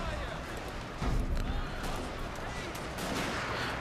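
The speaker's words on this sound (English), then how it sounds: "my line infantry here are providing a very valuable suppression fire" Musket volleys from line infantry laying down suppression fire in the strategy game Total War: Shogun 2 Fall of the Samurai, a dense, continuous crackle of battlefield gunfire with a heavier burst partway through.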